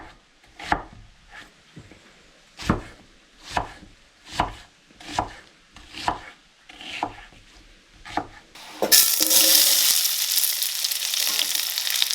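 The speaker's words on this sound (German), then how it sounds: "Die wird fein gehackt und ungefähr 10 Minuten lang bei mittlerer Hitze angebraten" A knife finely chops onion on a wooden board in about nine steady, evenly spaced strokes, close and distinct. Then a bright, continuous sizzle of frying suddenly rises and takes over. No voice is heard.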